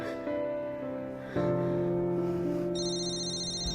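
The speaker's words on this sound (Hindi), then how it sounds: "फोन आ रहा है" A phone rings with an electronic ringtone of sustained melodic tones that shift pitch a few times, clear and fairly close, with no talking.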